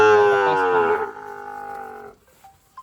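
A Sahiwal bull lets out one loud, close moo, a rich harmonic bellow lasting about two seconds and then fading, followed by faint background noise.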